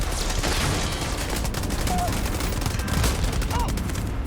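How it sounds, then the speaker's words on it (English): Rapid turret gunfire in the Starfield video game, a dense continuous volley of shots running loud throughout, with game effects mixed in. "Oh, turret."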